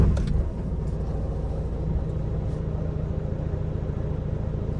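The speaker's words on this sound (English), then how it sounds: "I'm just going to start it and show you what it sounds like when it's idling" A daily-driver car engine idles with a steady, low rumbling drone, close and constant throughout, with a faint clatter at the start and no talking.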